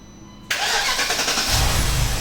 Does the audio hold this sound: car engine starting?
yes